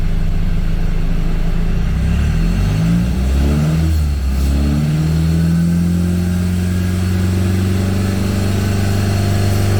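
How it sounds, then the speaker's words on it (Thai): A car engine revs up from idle to about 3,100 rpm, pitch climbing and dipping as the throttle is pressed, then settles into a higher, steady drone. "จะลองเร่งเครื่องดูนะครับ"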